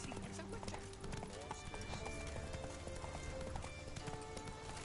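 Horse hooves clip-clop at a steady trotting rhythm in the video game The Witcher 3: Wild Hunt, close and continuous over game sounds, with a person talking over part of it.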